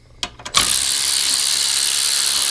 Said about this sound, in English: Snap on ratchet wrench